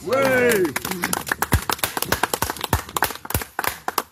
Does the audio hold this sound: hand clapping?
yes